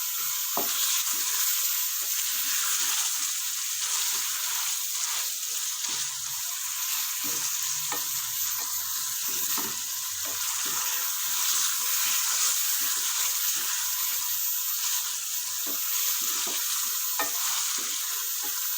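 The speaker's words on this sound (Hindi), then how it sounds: "बिल्कुल फ्राई हो जाए चिकन" Chicken frying in garlic ginger paste in a karahi for white karahi, a continuous loud sizzle with scattered scraping from stirring, close and with no talking.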